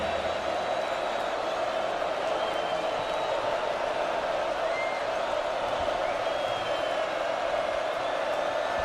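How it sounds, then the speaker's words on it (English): Crowd at a college football stadium cheering and rising to its feet late in the third quarter of an SMU versus Oklahoma game, a steady broad roar with scattered whoops, loud and sustained throughout. "This crowd coming to their feet again."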